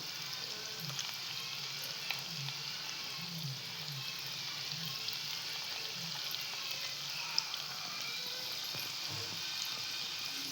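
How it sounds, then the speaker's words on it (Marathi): Paneer coated in cornflour and chilli powder fries in hot oil, a faint, steady hiss of bubbling with soft pops and crackles throughout. "तर आपण फ्राय करून घेतोय"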